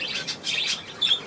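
Short bright chirps from a bird being coaxed into a box, a few quick tweets close by with no talking.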